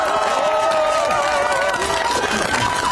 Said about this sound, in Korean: 커다란 박수 함성을 다시 한번